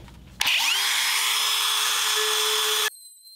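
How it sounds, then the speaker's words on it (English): A handheld power tool fitted with a 5/16-inch roundover bit spins up and cuts along the bottom edge of a wooden tray. It makes one loud, steady high-pitched whine for about two and a half seconds, then stops abruptly. "I'm just going to use this palm sander with a 5/16 roundover bit to round over this bottom edge"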